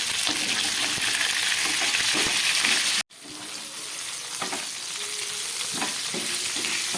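Potato, cauliflower and pointed gourd fry in hot oil in a pan, a steady close sizzle with a brief cut of silence midway, then the sizzle returns with light stirring scrapes.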